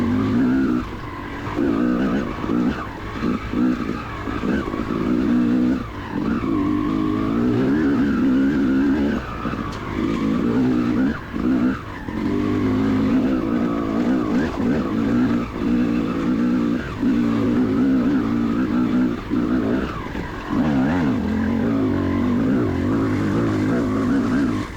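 A Yamaha YZ250X two-stroke enduro motorcycle labors up a long hill in the Barbed Wire Enduro, its engine droning loud and close without pause, the note wavering and briefly dipping as the rider works the throttle.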